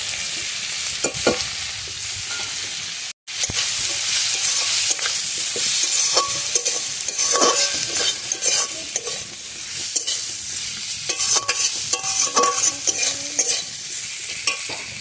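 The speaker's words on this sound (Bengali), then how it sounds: "কচুরলতিটা অল্প ভাজা ভাজা হয়ে গেছে।" Taro stolons fry in a pan with turmeric and chili powder, giving a loud, continuous sizzle broken by repeated scraping stirs. One brief dropout occurs near the start, and no one speaks.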